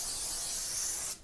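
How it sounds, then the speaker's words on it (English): Cooking spray hisses from a can onto a pizza pan in one steady, close burst lasting about a second before cutting off abruptly. "We're going to just spray this."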